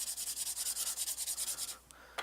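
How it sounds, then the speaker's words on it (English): An Estes rocket body tube being sanded by hand, a quick rhythmic series of about a dozen close scratchy rubbing strokes, then a pause and a final stroke. "It really doesn't take a whole lot of sanding to do this."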